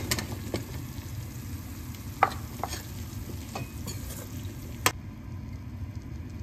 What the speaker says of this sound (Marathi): आता आपण ह्याच्यामध्ये बटाटे घालून घेऊ